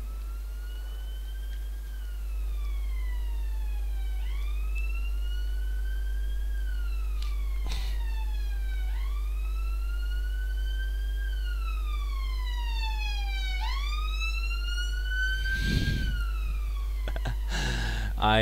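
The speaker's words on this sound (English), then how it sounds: "I love sirens." Emergency vehicle sirens wail in repeated rising and falling sweeps over a steady low hum, moderately loud and continuous, with a few brief clicks and knocks and no talking.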